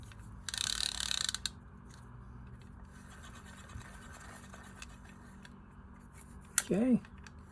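The handle ratchet of an Olympic Hurricane Destroyer fishing reel clicks in a quick, close burst of about a second during servicing, followed by quiet handling and a brief spoken word near the end.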